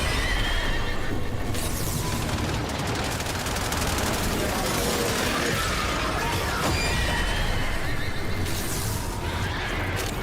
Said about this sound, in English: There be horses.